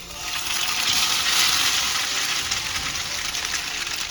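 Hong Kong style French toast fries in hot oil with a continuous bright, hissing sizzle, close and even for several seconds, with no talk.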